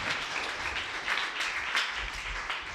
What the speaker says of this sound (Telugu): గట్టిగా చప్పట్లు కూడా దేవుని స్తుతిద్దాం.